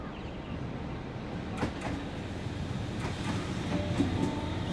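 A train pulls into platform 4 at Strathfield station with a steady low rumble and faint clicks and squeals from the wheels. The sound is moderately distant and continuous throughout.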